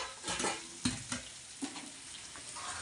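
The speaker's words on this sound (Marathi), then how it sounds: "कांदा गोल्डन होऊन तर फ्राय करून घेऊ आपण" Onions sizzling in a frying pan for a paneer masala dish, with a steady hiss broken by several soft scrapes and clinks of a spoon stirring against the pan.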